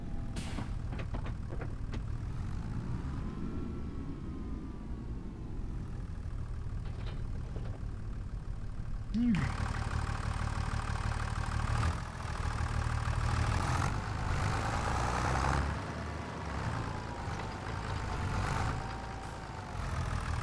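A tractor engine idles in the Farming Simulator 25 video game, a steady low rumble that runs throughout with brief shifts in tone and a mechanical clunk partway through.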